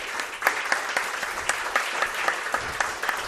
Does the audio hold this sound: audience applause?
yes